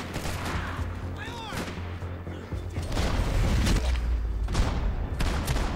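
Gunfire in the Max Payne 3 shooter game, rapid bursts of shots and booms close and loud, with a short whooshing effect partway through and intense combat noise building toward the end.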